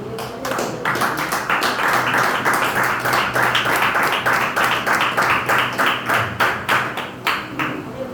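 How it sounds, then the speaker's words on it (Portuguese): A church congregation claps together during a worship service, a dense, steady wash of many hands with rhythmic pulses, loud and sustained throughout. "podemos glorificar ao Senhor, dando uma salva de palmas para Ele."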